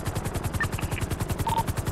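Helicopter rotors thump in a fast, steady rhythm in a military-style video game, loud and close throughout with a few faint tonal blips overhead, no talking.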